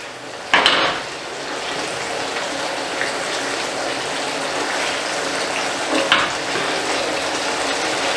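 Chicken liver pâté mixture cooking in a pan, a steady low sizzle running throughout with two sharp metallic clanks of utensil against pan near the start and middle.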